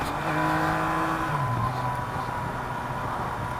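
A Yamaha XSR900 motorcycle fitted with an Akrapovič exhaust, ridden in standard mapping mode, revs up under light throttle with a loud, steady engine drone that rises in pitch, heard close and continuous without talk.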